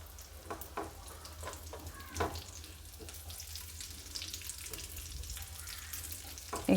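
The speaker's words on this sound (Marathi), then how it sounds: "आता आपल्याला खजूर थोडंसं आपण थोडस फ्राय करून घेऊया तुपात" Dates fry in ghee with a soft, steady sizzle, close to the listener. Occasional light clinks and scrapes of stirring sound throughout.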